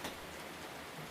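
Rain patters on an iron-railed balcony in Paris, a soft, even wash of drops that stays faint and steady.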